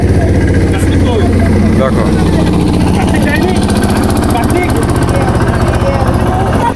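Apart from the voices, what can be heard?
fishing trawler engine passing by on a river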